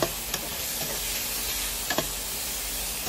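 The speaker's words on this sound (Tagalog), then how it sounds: "At lalagay na natin yung baka na pinakuluan natin kanina." Boiled beef pieces for adobo tossed into a hot pan, giving a steady close sizzle and hiss with a few sharp stirring clicks.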